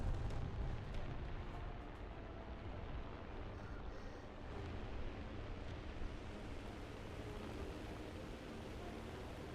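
Heavy rumbling blasts from bombs dropping in the War Thunder combat game, a continuous dense roar of explosions with low booming weight that stays steady and loud throughout.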